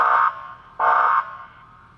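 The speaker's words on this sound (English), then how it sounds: "beep the horn" Two short, blaring electronic horn beeps from a 2021 Dodge Charger Pursuit police car, with a brief gap between them, loud and close, followed by quiet.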